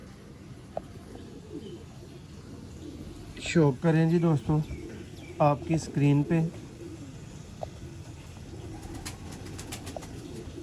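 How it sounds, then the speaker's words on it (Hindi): Sialkoti Master Abdullah pigeons, a breeder pair, coo in a run of loud rolling calls in the middle, close by, with someone talking before and after and some wing flutter. "सियालकोटी मास्टर अब्दुल्ला वाले कबूतर 55 नंबर जोड़ा"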